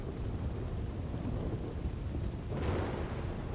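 A thunderstorm in a western roleplay video game, steady loud rain and low rumbling thunder that swells near the end, with no voices.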